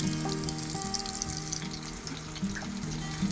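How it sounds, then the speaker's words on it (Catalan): Sole fillets fry in a hot pan with oil and butter, giving a steady, close, crackling sizzle that carries on throughout with no talking. "I quan està prou calenta hi posem els llenguados."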